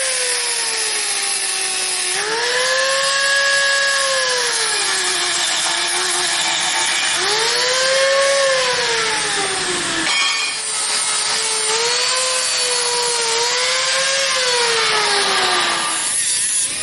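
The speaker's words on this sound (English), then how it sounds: "So cut off wheel time, make some dust." An abrasive cut-off wheel grinds through thick metal plate with a loud, sustained high whine. The pitch sags and recovers as the blade bites, then drops out briefly and picks up again partway through. No one speaks.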